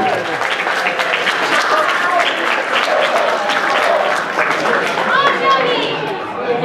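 A convention crowd at a Transformers fan event applauds, with sustained dense clapping and cheering that fills the whole stretch, mixed with scattered voices and excited chatter from adults and children.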